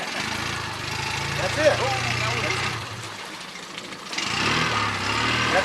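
An outboard boat engine runs in gear at low throttle, a steady low drone that dips for a moment and then picks back up, while people talk over it.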